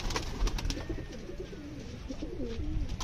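Pigeons kept in pairs coo repeatedly in soft, low rolling calls, with faint flapping and rustling amid a busy outdoor background and no speech.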